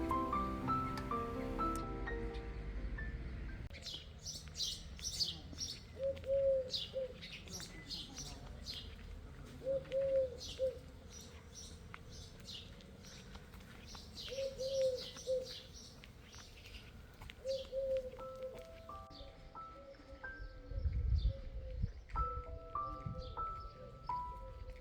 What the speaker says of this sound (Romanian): cât de frumos se auzeau păsările